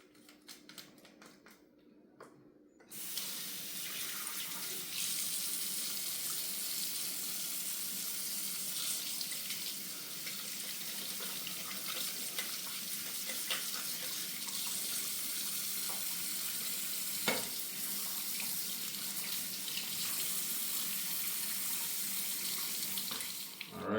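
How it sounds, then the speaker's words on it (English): Water runs steadily from a kitchen tap into a sink as cleaned fish is rinsed, a constant close hiss and splash after a brief quieter start, with occasional small knocks. "we're gonna rinse it off with some vinegar."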